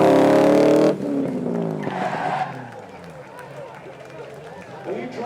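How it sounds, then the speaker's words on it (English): At a supercar weekend event, a Lamborghini Aventador S brakes hard as its loud engine roar cuts off abruptly into the scrub of locked tyres skidding to a stop, with a commentator talking over it. "Hard on the brake, and coming to a stop"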